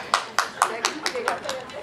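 A run of seven or eight evenly spaced claps from an audience at an Inner Wheel Club event in Delhi, a steady brisk rhythm, close and moderately loud, with talking underneath.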